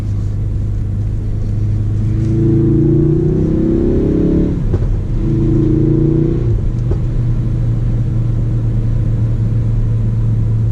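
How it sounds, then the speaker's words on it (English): A Ford Focus RS turbocharged four-cylinder engine at full throttle, heard from inside the car as a loud, steady rumble that rises in pitch twice as it revs through the gears, with no one talking. "So this is a turbocharged 4-cylinder. There's like a half-second delay when you put full throttle, so the turbo has to spool up a bit"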